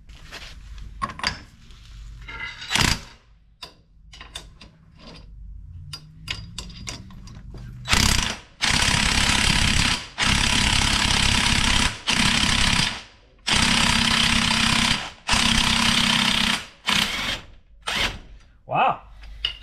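An electric impact wrench works on a Honda ATV axle nut: first some clicks and handling knocks, then a series of loud, close hammering bursts, each one to two seconds long, with brief pauses between them.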